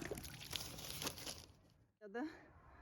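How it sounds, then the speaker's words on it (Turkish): Water is poured from a container onto newly planted vegetable seedlings in a garden, making a steady splashing pour for over a second before it stops, followed by a short voice. "Bunu Şimdi da bunlara can suyu veriyorum."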